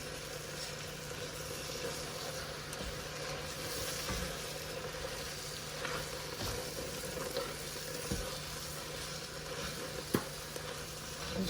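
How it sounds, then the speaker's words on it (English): Creamed spinach made with heavy cream and cream cheese is stirred in a pan, giving a steady, fairly faint sizzle with occasional soft scrapes and taps of the spoon, continuous throughout with no talking. "Kind of a constant stirring you have to do with this"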